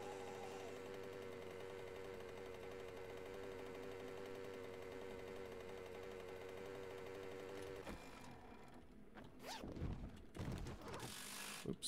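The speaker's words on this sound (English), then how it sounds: "I like having that impact wrench." Steady mechanical whirring from an impact wrench in the survival video game 7 Days to Die runs for about eight seconds, then gives way to scattered clunks and knocks.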